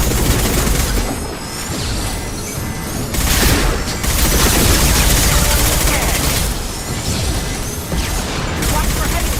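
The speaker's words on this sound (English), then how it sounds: "Watch out, flashbangs." Combat in Mass Effect 2: Legendary Edition, with flashbang grenades bursting and heavy gunfire rattling in dense, loud volleys, broken by sharp booms, while voices speak over the din.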